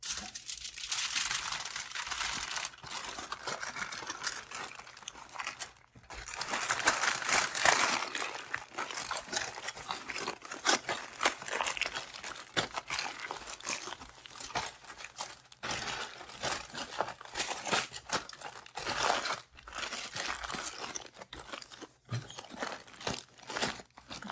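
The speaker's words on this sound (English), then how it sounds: "you just fold the aluminum foil up to enclose it" Aluminum foil is crinkled and folded around frozen French fries to make a grill packet. The crackling rustle runs nearly continuously at close range, swelling and easing with each fold, and no one speaks.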